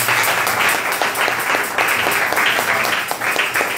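A church congregation applauds during a thanksgiving service in Abobo, dense, steady clapping that fills the space evenly from start to finish without pause.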